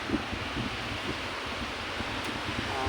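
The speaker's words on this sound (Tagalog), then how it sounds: "Talagang simoy ng hangin." Steady wind blowing at a beach resort in Kuwait, a constant broad rushing hiss with low rumble from gusts against the microphone, and no talk.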